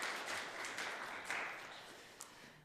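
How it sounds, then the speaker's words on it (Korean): Congregation applauding birthday wishes during a Sunday church service, a steady wash of many hands clapping that slowly tapers off, with a faint voice underneath. "박수 부탁드리겠습니다"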